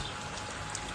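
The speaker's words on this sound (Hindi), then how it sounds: "ये देखो बारिश, मस्त बारिश, बढ़िया है।" Steady rain pattering down in a mountain village, a dense, even hiss of drops on surfaces with no pauses, close and moderately loud throughout.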